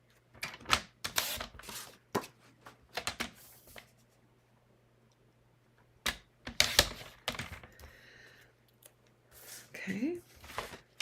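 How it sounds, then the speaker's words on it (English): Cardstock being trimmed to size for a Paper Pumpkin card kit, heard as a run of sharp, close clicks and slicing strokes in bursts with quiet pauses between them, alongside a steady low hum and brief talking. "I'm going to cut this to 4 by 5 1/4."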